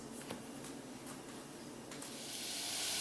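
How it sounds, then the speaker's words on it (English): Butter and garlic sauté in a saucepan while a Memphis-style barbecue sauce is being made, giving a steady soft hiss with faint crackles that grows slightly louder toward the end, with no voices. "we've got the butter and garlic going pretty good. It's been sauteing just for a couple minutes."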